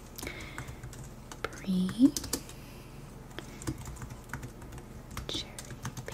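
Soft clicks from a computer keyboard come in scattered quiet bursts in a calm indoor setting. A soft voice speaks briefly over them.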